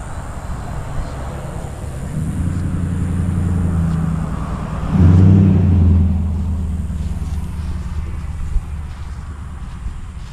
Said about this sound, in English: Why are trucks and Mustangs revving through a national park?